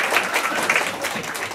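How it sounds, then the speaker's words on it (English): Brief applause from a seminar audience at an online entrepreneurs summit panel in Singapore, with quick, moderately loud clapping from a modest crowd filling the whole moment. "can you give a round of applause?"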